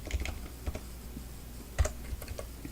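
Irregular clicking keystrokes on a computer keyboard while a formula is typed, several soft taps with a couple of louder presses, close and quiet with no voice.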